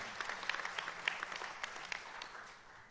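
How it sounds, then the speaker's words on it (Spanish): A church congregation claps in praise during a Spanish-language service, a fairly soft and somewhat distant patter of hands with scattered sharper claps, fading slightly toward the end. "Un aplauso al Señor, hermanos."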